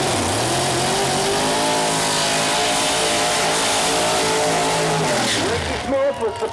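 Nitrous Pro Mod door slammer drag car at Mooresville Dragway running down the left side of the lane, a loud high engine roar with rising and falling harmonics that fades near the end, under announcer commentary.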